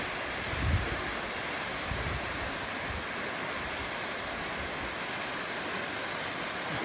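A waterfall on Mt. Rose near Lake Tahoe, Nevada, roars in a dense, steady rush close by, with a couple of faint low bumps near the start.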